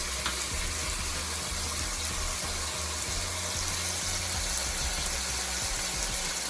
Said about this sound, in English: I want my veggie to cook a little bit. I want to see the oil change a little bit reddish.